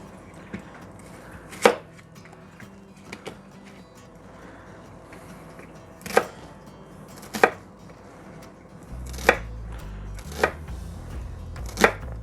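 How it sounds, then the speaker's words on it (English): Sharp knife strikes chop an onion on a cutting board, spaced irregularly with pauses between them, close and crisp over a low background hum. "I'm sure this ain't the proper technique for chopping an onion"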